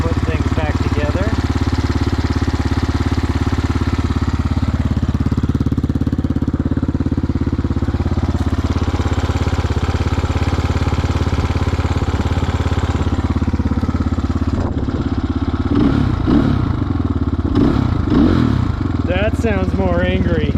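A 2022 GPX FSE300R motorcycle engine runs after a cam upgrade, a steady close idle with mechanical clatter throughout and a few short throttle blips near the end.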